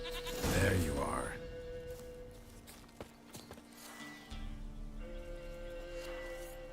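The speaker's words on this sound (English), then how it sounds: "Here, goat." In The Witcher 3, a goat gives a loud, close bleat near the start, followed by hoof clops and footsteps as the game's background sound continues.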